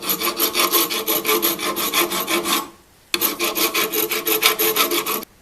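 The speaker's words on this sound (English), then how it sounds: "now I just need to file away at this weld" Hand filing of a weld on an antique 1910s pop gun: loud, close rasping strokes in a fast steady rhythm, a brief pause near the middle, then the same rhythmic filing resumes, with no talk.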